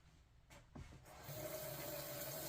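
Hot water gushing from a tap into a pot for a double boiler, starting with a few clunks and splashes, then settling into a steady, rising rush of running water, close by, with no voices.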